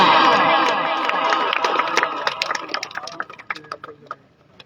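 Loud applause from a crowd at a shooting volleyball tournament prize ceremony in Mandir, Gujrat district, with cheering at the start, fading into scattered claps toward the end.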